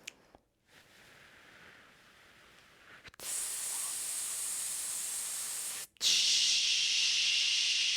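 Forceful hissing exhalations during a breathing exercise: a softer sustained shush for a few seconds, a short pause, then a louder, brighter hiss, all close and steady.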